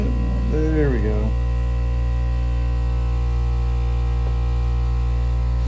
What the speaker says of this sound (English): That's the air compressor going off.